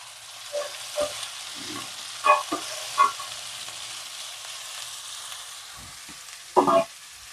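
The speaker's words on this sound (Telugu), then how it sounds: "హై ఫ్లేమ్ లో పెట్టి ఫ్రై చేసుకోవాలండి" Chopped broad beans (chikkudukaya) fry in a pan over high flame with a low sizzle, broken by several distinct scrapes and clatters of stirring.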